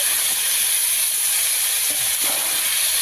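Vegetables frying in hot oil in a pan with dried red chillies, giving a steady, close, bright hiss and sizzle with faint stirring clinks underneath.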